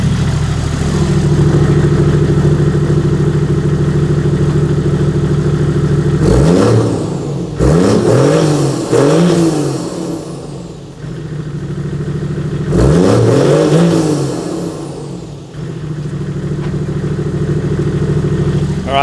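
A Toyota FJ Cruiser engine with a selectable exhaust map rumbles loudly and is blipped through several rising and falling revs, steady droning between the bursts, close by and without speech.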